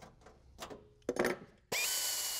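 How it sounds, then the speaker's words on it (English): A power drill bores a location hole through a car body panel on a 1932 three-window street rod, with light handling noises before a loud, steady high-pitched whine near the end. "With the panel in position, drill your first location hole in the corner"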